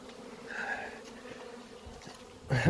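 Honeybees buzz around a hive colony prone to swarming, a faint droning hum rising and falling as individual bees pass close, then a louder burst of buzzing at the end.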